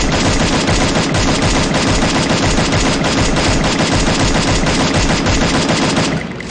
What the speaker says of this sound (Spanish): Y apuntamos a la cabeza, nos fijamos en el objetivo y disparamos.